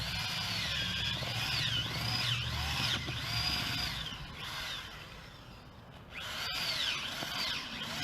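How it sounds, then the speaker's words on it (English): Power drill whirring through garden felt to bore a planting hole, revving up and down in repeated whining bursts, close and fairly loud with a short pause midway. "This is going to drill my hole for my plant."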